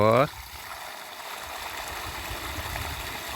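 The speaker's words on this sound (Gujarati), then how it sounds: "તો જો આવું પાણી કાઢે છે આ મોટર" A water pump motor in a village discharges water in a steady broadband rush and gurgle that continues evenly throughout, preceded by a brief burst of a voice at the start.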